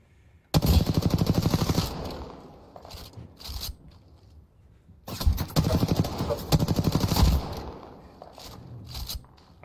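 Video game gunfire: two long bursts of rapid automatic shots, each about a second and a half to two seconds, loud and close, separated by quieter gaps with faint background noise.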